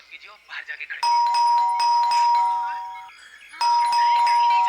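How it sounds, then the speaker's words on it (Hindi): A doorbell chime rings, sustained tones sounding twice with a pause between, while a voice talks briefly before the first ring. "तो तुम बजाओ घंटी, शायद तुम्हारे हाथ से सुन ले।"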